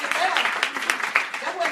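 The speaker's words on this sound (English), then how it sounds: "give me a hand clap on that one" An audience at a speaking event claps in a brief, uneven burst, with voices and a speaker talking over the scattered hand claps.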